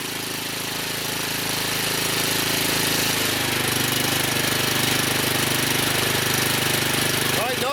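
A Cub Cadet CC760es walk-behind engine idling after a Huayi carburetor rebuild, running with a loud, steady, rapid mechanical chugging that holds throughout.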